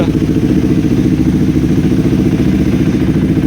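A KTM Adventure 390 motorcycle engine, just fitted with an iridium spark plug, idles up close with a steady, even, throbbing chug that holds a constant pace throughout.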